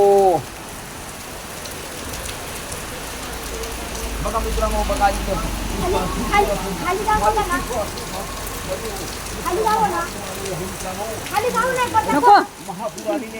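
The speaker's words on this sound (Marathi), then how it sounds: "पाऊस पुण्यामध्ये बघा बघा तुम्हाला दाखवतो" Heavy monsoon rain falls steadily in Pune as a constant wash of noise, with someone talking over it in the foreground for most of the stretch.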